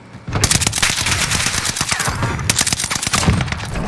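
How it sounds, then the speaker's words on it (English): A STEN submachine gun fires loud, rapid, nearly continuous bursts in the video game Call of Duty on Rebirth Island, with dense overlapping shots and no voices. "Oh my god, bro, I just shot this team."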